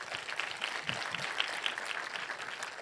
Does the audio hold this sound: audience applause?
yes